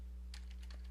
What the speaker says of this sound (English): I hit the enter key.